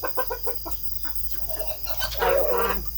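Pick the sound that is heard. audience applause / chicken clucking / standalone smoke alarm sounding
chicken clucking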